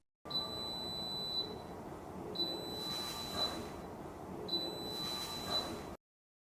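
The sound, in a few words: Kismile drip coffee maker beeping three times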